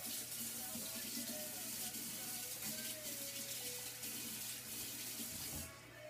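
A spatula dropped while making chicken taquitos is rinsed under a running kitchen tap, giving a continuous hiss of flowing water that cuts off near the end.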